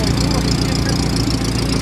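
Hot rod powered by a Chevrolet Opala four-cylinder engine with a deliberately made exhaust leak, idling with a loud, rough, low rumble and steady pulsing throughout.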